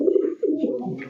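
Big red Rajgolla pigeons coo steadily in low, throaty rolling phrases at a pigeon farm, close and continuous with no talking.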